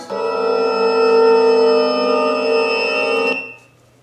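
A trailer sound effect called "Behind the Looking Glass": a loud, sustained harmonic tone with bright ringing overtones that holds steady for about three seconds, then stops abruptly, leaving a faint low hum.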